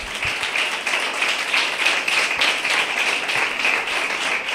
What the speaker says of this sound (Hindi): यीशु मसीह के लिए जोरदार तालियां बजाएं जरा।